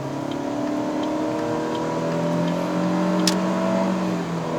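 A 2022 Proton Persona 1.6 Standard CVT car engine revs steadily with a smooth, droning whine, heard from inside the car climbing toward Genting in Malaysia, with a brief click partway through.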